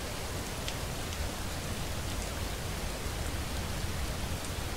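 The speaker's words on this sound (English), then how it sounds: "And it's raining." Steady rain in a video game, a dense, even hiss of falling water with faint drop ticks, continuous and fairly close throughout, with no talk over it.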